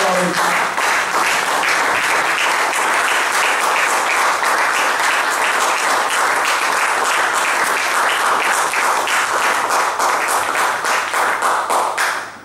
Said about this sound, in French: Est-ce qu'on peut acclamer très fort la gloire?